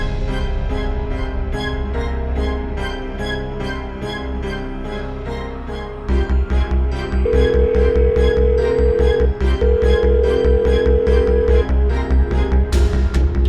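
A telephone rings on and on with no answer, a steady repeating ring layered over loud dramatic background music with a rhythmic pulse.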